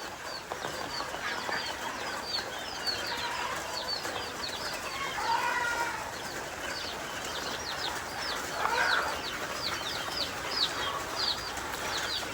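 Hungry chicks and chickens on a rain-soaked farm, a steady stream of high peeping calls with occasional clucks from nearby fowl, continuous at moderate level with no voices.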